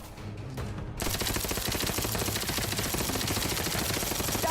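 Rapid automatic gunfire in the video game The Outer Worlds 2, a dense, loud, continuous burst of shots that erupts after a brief quieter moment and keeps pounding without pause.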